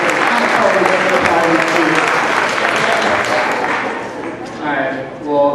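A Chinese school's New Year show audience applauds, a loud sustained clatter of many hands that fades near the end as a voice comes in.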